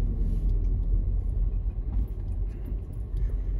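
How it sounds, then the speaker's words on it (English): Steady low engine rumble and road noise from inside a car cruising in the morning, even and continuous with no talking. "just driving around this morning"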